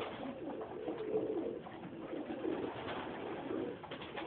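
A show-type breed pigeon cooing in a low, soft, continuous murmur, moderately near, with a muffled quality and no talk.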